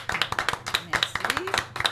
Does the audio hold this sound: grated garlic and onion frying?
no